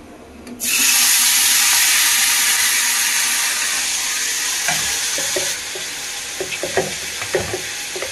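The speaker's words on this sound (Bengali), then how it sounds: "দেখো দেখো কি করে মাছ ভাজি হবে।" Fish dropped into hot oil in a home kitchen pan, a strong, steady sizzle that starts suddenly and holds close and loud, easing a little later, with faint clinks and spatters near the end.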